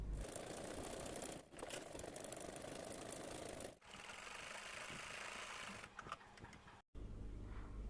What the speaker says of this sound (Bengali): এবার আমি এটার উপরে আবার একটা ভাঁজ দিব, দিয়ে এটার উপরে আরেকটা সেলাই করে নিব।